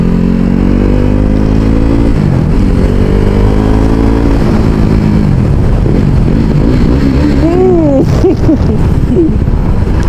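A Yamaha R6 and a KTM RC 390 race, their engines loud and close with a continuous roar, rising revs and a whining pitch that climbs and falls near the end, under wind buffeting.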